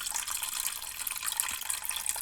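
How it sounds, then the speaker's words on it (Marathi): Sago and barnyard millet are rinsed in clean water, giving a steady close swishing and splashing wash of water throughout the short moment, no talk. "स्वच्छ पाण्याने आता धुवून."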